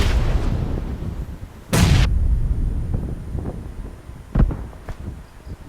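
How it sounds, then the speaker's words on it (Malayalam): A grenade in the mobile battle royale game BGMI goes off with one loud, sharp explosive burst, then smaller distant gunfire pops, and no voices are heard. "ഗ്രനേഡ്."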